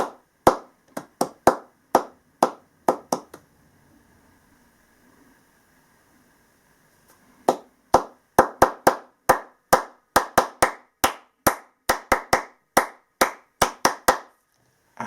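Sharp hand claps repeat in a rhythmic pattern, then stop for a few seconds of near silence. They return in a faster, busier rhythm of crisp, close claps.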